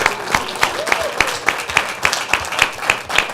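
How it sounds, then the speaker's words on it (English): A crowd applauds a high school band at a Friday night football game, with rhythmic, fairly loud clapping in a steady beat and some scattered cheering. "Let's give them another round of applause."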